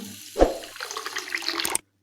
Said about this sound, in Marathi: आता याच्यामध्ये पाणी ओतत आहे